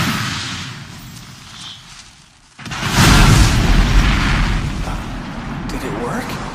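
A fire-shot magic spell explodes in an English-dubbed anime battle: a low rumble gives way to a sudden loud burst that swells into a sustained, roaring blast lasting several seconds.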